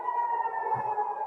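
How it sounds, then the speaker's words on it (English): An air raid siren in Tel Aviv, Israel holds a single high pitch, heard at a moderate distance and continuing without pause. "Air raid sirens are sounding across Israel's second largest city of Tel Aviv."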